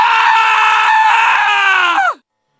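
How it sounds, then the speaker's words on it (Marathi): A frightened man's single loud, sustained scream, a horror-story sound effect, holds steady for about two seconds and then drops sharply in pitch before cutting to silence. "यामुळे घाबरलेला समर्थ जोरजोरात ओरडू लागला."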